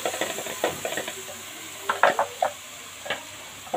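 Ingredients sizzle steadily in a frying pan while being browned for a béchamel pasta bake, with intermittent scraping stirs and clinks standing out over the continuous frying hiss.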